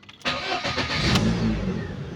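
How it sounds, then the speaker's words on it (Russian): A Lada Priora engine, freshly fitted with new pistons, cranks briefly and catches, then settles into a steady, close idle with a slight rise in revs and no talking. "Сейчас вот заведу мотор."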